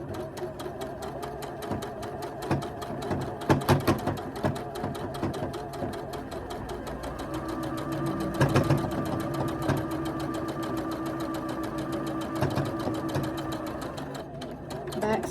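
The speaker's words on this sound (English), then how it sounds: "hit go and start stitching all the way down this line" A sewing machine runs a long, steady stitching pass down a seam on a holiday shirt, its rapid needle clatter continuous and close, with brief pauses and a few heavier knocks along the way.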